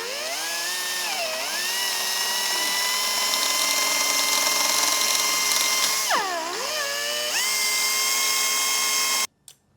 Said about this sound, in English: I have this right angle air drill that I'm going to be able to hopefully sneak in there and just get the hole started.